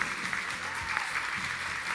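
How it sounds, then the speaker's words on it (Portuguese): A standing audience at a literary academy's installation ceremony gives its first president an ovation: a steady, dense roar of many hands clapping, continuous and fairly loud with no speech over it. "uma salva de palmas em pé para o nosso primeiro presidente da Academia de Letras de Cianorte"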